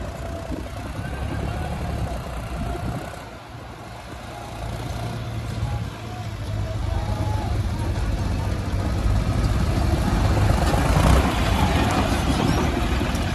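A tractor engine runs steadily at mid revs as it turns and maneuvers to line up for loading a trolley at an outdoor loading competition, a continuous low rumble with someone talking over it throughout.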